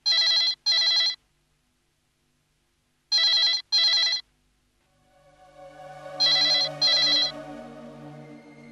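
A telephone rings at night in three double bursts separated by silence, loud and clear, with low dramatic music swelling underneath the final ring.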